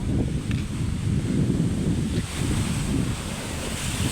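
Strong sea waves surge against a seawall during a high tide that is overtopping the shore, a loud continuous wash and roar with heavy wind buffeting the microphone throughout.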